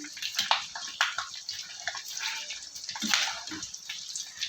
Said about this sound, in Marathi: तळून घेते मस्त लालसर होईपर्यंत बघा काही शेंगदाणे टाकलेले आहे मी तळायला चिवड्यासाठी